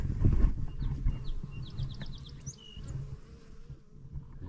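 Honeybees buzz near their hive outdoors, with a steady low hum and several brief, higher-pitched buzzes as individual bees fly close by and then away.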